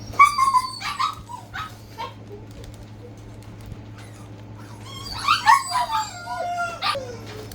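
A dog howls, whimpers and barks in two bursts, one at the start and a louder one later, close by in a quiet indoor room over a steady low hum.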